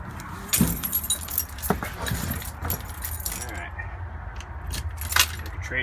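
A set of keys to a 1973 Kenworth truck jangles and rattles in several close, bright bursts, with a louder shake near the start and another toward the end.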